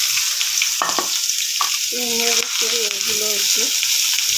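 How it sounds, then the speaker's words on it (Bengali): Chopped onion and garlic frying in a pan, a steady hiss of sizzling oil running throughout while someone speaks briefly over it. "পেঁয়াজটা একটু ভেজে নিলাম"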